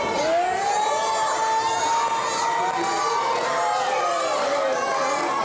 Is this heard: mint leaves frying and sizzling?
no